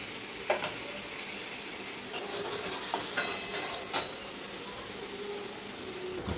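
Onion sautéing in a pan while bitter gourd and tomato wait to be added, a soft continuous sizzle with occasional stirring scrapes and a few sharp clinks of the spatula against the pan.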